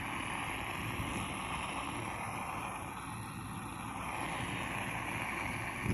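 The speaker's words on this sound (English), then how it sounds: "you can hear air getting sucked in through the faucet." Air hissing and gurgling as it is drawn in through an open faucet while a home water heater drains in a garage, a steady continuous rushing noise that holds at an even level throughout with no talking.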